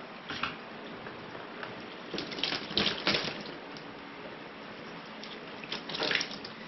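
Water drains from a plant pot into a mortar tray in uneven splashing trickles and gurgles, close and moderately loud, swelling in short bursts.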